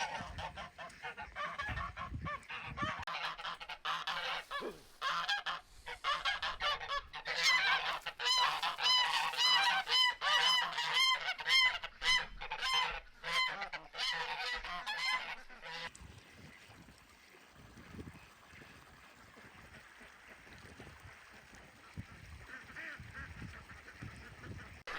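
Ducks beside a newly built backyard pond honk and quack in a rapid, overlapping chorus that grows busy in the middle and then thins to scattered calls over quiet outdoor background.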